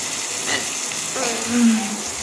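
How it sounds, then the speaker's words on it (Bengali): Shrimp frying in oil in a pan, a close, steady sizzle and crackle lasting a couple of seconds. "মাছগুলো ভালো করে ভেজে নিচ্ছি আমি"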